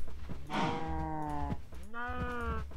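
Cows mooing in the video game Minecraft, two drawn-out nasal moos in quick succession, close and clear over a low background hum, with no talking.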